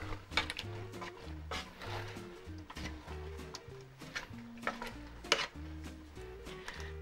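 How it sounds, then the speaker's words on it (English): Chicken curry with bouillon, onion powder, garlic powder, salt and pepper stirred in a pot: repeated close scraping and clinking strokes over a soft simmer, rhythmic and fairly quiet, no talking. "Stir that up."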